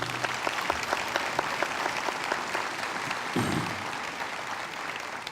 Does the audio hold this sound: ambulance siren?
no